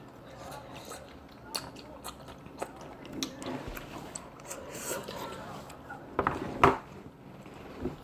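Shine Muscat grapes being bitten and chewed close up, with soft wet squishes and a few sharp crisp bites, plus faint dish clinks at a dinner table.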